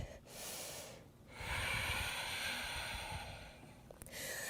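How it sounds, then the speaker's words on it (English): A single full, slow breath taken during a flowing yoga sequence, a soft airy inhale and exhale with steady broadband breath noise, close and fairly quiet. "Take 1 full breath."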